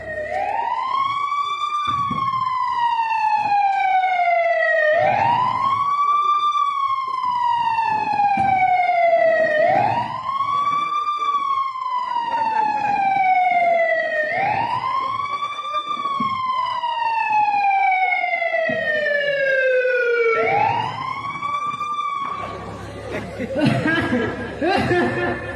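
An ambulance siren wails in repeated rising and falling sweeps, loud and continuous, ending with some laughter and noise.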